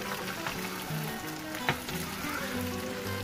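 Chicken and other club sandwich ingredients fry in a pan, a steady, dense sizzle with one brief clatter partway through, no voices.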